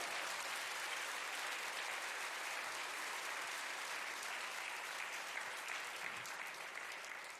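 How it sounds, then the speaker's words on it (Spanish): A church congregation claps for the Lord in a long, steady burst of applause filling the room, dense and even throughout, with no voices standing out. "Dele un aplauso al Señor por eso."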